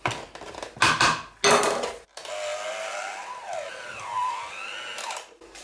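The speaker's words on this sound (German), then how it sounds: "mein Mixer hat keine typische Knetehaken, deswegen der Teig will immer nach oben kriechen" An electric mixer without proper dough hooks kneads a sticky yeast dough for sugar cake. Loud choppy bursts of churning give way to a steady, close motor whine that rises and falls in pitch as the dough resists.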